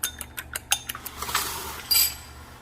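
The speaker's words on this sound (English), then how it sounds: "So I'm just going to beat the egg here." A fork clinks rapidly against a bowl while an egg is beaten for an egg wash for homemade dinner rolls, a quick run of light metallic taps that slows into softer scraping, close and fairly quiet.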